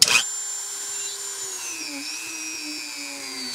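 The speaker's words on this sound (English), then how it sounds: "I have my Dremel tool, and I'm just going to quick drill a hole into the golf ball." Small Dremel rotary tool drilling a hole into a golf ball, a steady high-pitched whine that starts with a brief bump and runs continuously, pitch wavering slightly as it bites.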